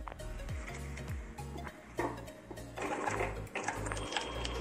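A zigzag sewing machine stitches in quick mechanical bursts, its needle swinging left and right with a rapid whirring and clattering rhythm that speeds up and pauses, close and clear.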